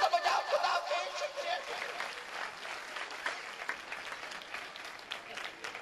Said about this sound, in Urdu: تالی تو بجاؤ